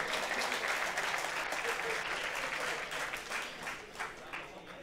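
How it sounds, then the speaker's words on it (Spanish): Sustained audience applause at a software conference talk fills the hall steadily and loudly, a dense wash of many hands clapping that eases slightly toward the end, with no talk over it. "Caballero, por favor, un aplauso,"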